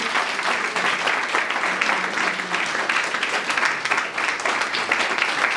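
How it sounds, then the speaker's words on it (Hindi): Steady, loud applause from an audience at a BJP party office gathering, many hands clapping continuously for several seconds with no pause and no talk over it. "जोर से ताली बजनी चाहिए।"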